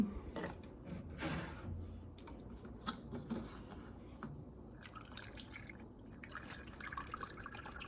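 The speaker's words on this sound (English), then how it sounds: "Distilled water, lid off, my regular funnel. Let's fill it up." Distilled water trickles and drips through a funnel into an Aeon Mira 9 laser water chiller, a faint, close, irregular pouring sound with small splashes.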